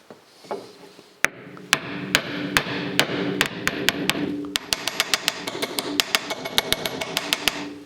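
Hammer blows knocking at a seized rack and pinion on an MGB, a steady run of sharp metallic strikes, sparse at first and then quicker and more regular, close and loud in a workshop.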